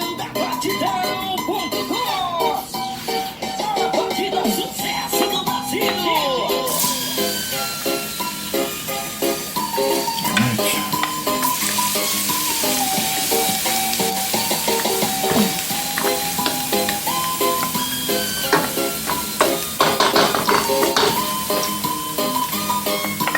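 Chopped garlic, scallion and onion stir-fry on a stovetop for a beef curry, with continuous sizzling and frequent clattering of a utensil against the pan, the hiss growing brighter and louder partway through.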